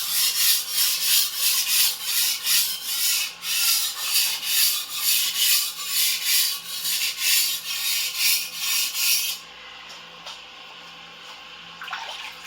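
Steady back-and-forth rasping strokes of an antique Dufrense and Co. chef knife on a sharpening stone, rhythmic and close, repeating for about nine seconds before stopping, leaving a quiet room with faint scrapes.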